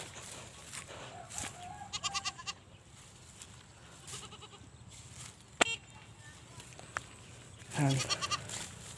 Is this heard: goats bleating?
yes